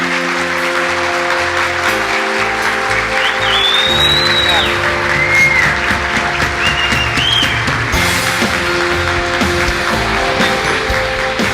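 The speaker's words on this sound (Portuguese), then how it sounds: "Eu queria que vocês se levantassem e dessem uma salva de palmas de pé ao Osiris Silva." A large standing audience applauds Ozires Silva in a steady, loud, sustained wash of clapping over the full length, with a few whistles and cheers rising above it.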